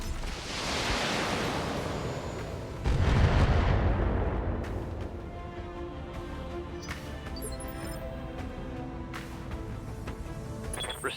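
Artillery shelling in a tabletop role-play battle scene: two heavy, booming impacts about three seconds apart, each followed by a long rumbling decay, then sparse crackling debris and distant thuds, with no talking.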